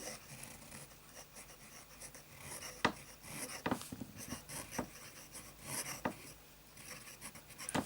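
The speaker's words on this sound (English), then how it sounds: "flex writing on the cheap Copier paper" A flexible-nib fountain pen filled with De Atramentis Document Blue ink scratches faintly across cheap copier paper in quiet, continuous strokes with occasional sharper ticks.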